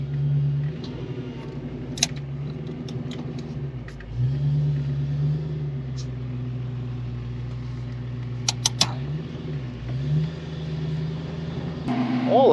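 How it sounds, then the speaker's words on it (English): A 1990 Ford Mustang GT on Dayton wheels drives steadily, its engine a continuous low droning rumble with slight pitch dips as it eases off and back on, close and constant throughout, with a few faint clicks and a louder rev at the end. "Car drives nice on these wheels."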